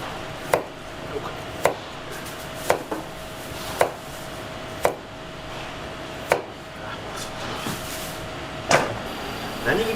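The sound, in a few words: knife chopping vegetables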